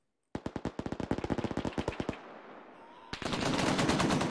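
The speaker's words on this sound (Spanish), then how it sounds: "¿Por qué se disparan entre ellos?" Video game characters shooting at each other, with a loud rapid string of automatic gunfire cracks followed by a short lull and then a dense, continuous roar of shooting and noise.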